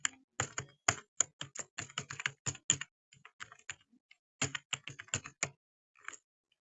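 A computer keyboard clatters as Java code is typed for the itsMagic game engine. Quick, close keystrokes come in irregular bursts, with a short pause partway through, and no one speaks.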